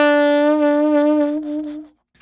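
A saxophone played with its reed set too high on the mouthpiece gives one strained, buzzy sustained note held for about a second and a half, wavering slightly before it cuts off, with no other sound.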